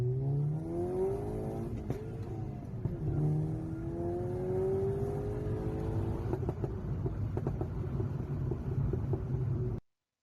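A car engine with a pop-and-bang crackle map revs up steadily through rising pitches, easing off and climbing again, with a rough exhaust note throughout; no distinct pops stand out.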